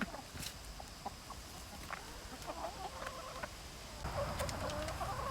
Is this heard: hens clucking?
yes